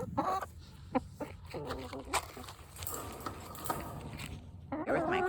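Hens clucking and squawking around a garden with raised beds and wood-chip paths, close by and fairly busy, with several overlapping calls and a louder burst near the end.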